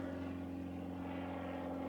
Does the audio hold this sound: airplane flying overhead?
yes